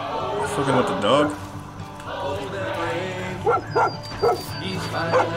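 A dog in Far Cry 5 barks several times in short, sharp bursts toward the end, mixed with voices and game sounds throughout.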